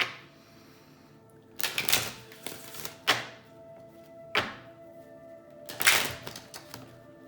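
Tarot cards being shuffled in several brisk riffling bursts, close and crisp, with short quiet pauses between them and no talking.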